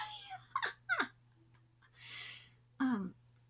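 A fussy cat gives several short, whiny meows and a breathy huff, fairly faint and close, with a steady low hum beneath.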